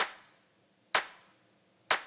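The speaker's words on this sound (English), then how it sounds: "We've got a very standard clap sound here." A standard clap sample used in dance music production, three crisp, dry hits evenly spaced about a second apart, each with a short decaying tail and silence between.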